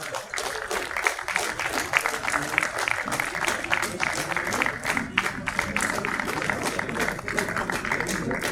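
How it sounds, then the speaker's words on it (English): Steady crowd applause at a workplace National Safety Day prize distribution, a continuous wash of many hands clapping at even strength for the full stretch. "Please give a big round of applause."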